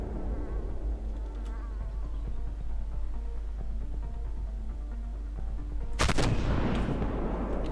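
A tank cannon fires once in the Armoured Warfare video game near the end, a loud sharp blast with a broadband burst and brief rumbling tail over steady engine drone and buzzing game ambience.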